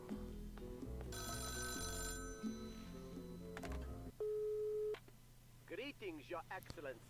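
A red telephone rings in the video game Rogue State: layered electronic ring tones for a few seconds, then a sustained flat tone like a dial or busy signal, followed by a warbling processed voice.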